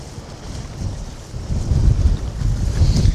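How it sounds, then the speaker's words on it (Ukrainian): Strong storm wind roars and buffets the microphone in heavy low gusts, swelling louder toward the end, with no voices, at a feeder fishing championship outdoors. "я думаю, навіть вам буде чути цей вітер"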